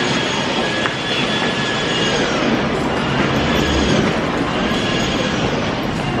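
JR train travelling from Fukuoka to Kitakyushu in Japan, a steady loud rumble of wheels on rail with faint squeals and a clatter, heard from inside the car without talk.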